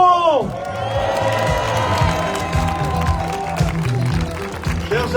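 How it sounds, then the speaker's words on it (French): Crowd at a protest rally at La Défense against the bioethics law bursts into applause and cheering, dense clapping with whoops and shouts held throughout, loud and close, with a voice over the start. "Un grand tonnerre d'applaudissements!"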